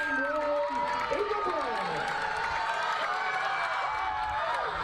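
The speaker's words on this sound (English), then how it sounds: "The crowd is fired up." A softball crowd at Miller Ranch Park cheers and whoops after a two-run home run, a sustained roar with clapping and shouts, near and lively, with a commentator talking over it.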